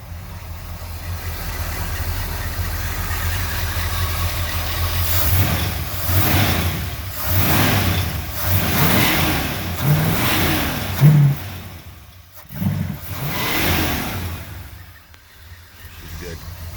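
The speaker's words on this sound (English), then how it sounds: "Factory exhaust, factory sounding exhaust." A 1966 Pontiac GTO with a 389 Tri-Power engine and factory exhaust revs repeatedly in deep, rising surges over a steady idle rumble, close and fairly loud, with a few brief pauses between blips.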